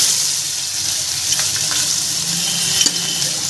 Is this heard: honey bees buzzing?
no